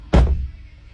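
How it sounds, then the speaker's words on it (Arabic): A car door closing with a single heavy thump that decays into a short rattling knock, close by and loud, then a quiet tail. "ملي كتسد الباب كتسمع واحد الخبطه بحال هكا"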